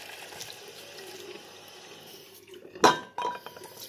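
Hands washed under a running tap, a soft trickle of water that bursts into a louder splash and gush near the end, close by in an indoor sink.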